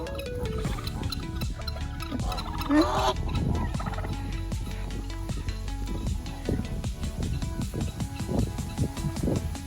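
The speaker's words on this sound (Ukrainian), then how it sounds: "Да, тато гусь." A flock of geese calls continuously, with loud honking and gobbling cries overlapping against a busy outdoor background.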